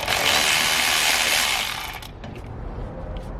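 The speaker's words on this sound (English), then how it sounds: "we're gonna start by removing the 8mm worm gear clamp that's holding in the charge pipe here" An 8mm worm gear clamp on the charge pipe of a 2017 Subaru Forester XT is loosened with a loud, close whirring power tool that runs for about two seconds and then cuts off, leaving faint rustling.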